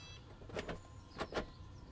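WELOCK smart lock motor turning to lock a door, a few short whirring bursts in two pairs, close and clear with no talk.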